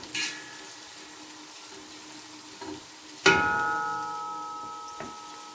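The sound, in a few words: onion and sausage frying in pan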